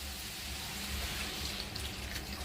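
Water pours steadily into a peppery curry of ridge gourd and cabbage cooking in a pan, making a continuous soft rushing splash that goes on alone throughout.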